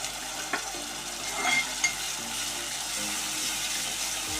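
Onion frying with ginger, garlic and coconut paste in a pan: steady soft sizzle with a few stirring scrapes near the start, quiet and close, no voices.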